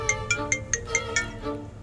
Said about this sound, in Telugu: ఏంటి నాన్న ఫోన్ చేస్తున్నారు?